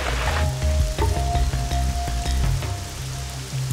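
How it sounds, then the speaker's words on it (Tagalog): Steady rain patters and drums on a surface close by, with scattered heavier drops and a low rumbling hum underneath, continuous throughout. "Nabot na tayo ng ulan, no?"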